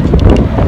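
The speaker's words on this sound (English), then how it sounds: "It is so windy." Strong outdoor wind buffeting a microphone, a loud continuous low rumbling roar throughout, with no talk.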